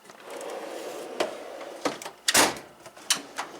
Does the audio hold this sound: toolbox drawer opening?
yes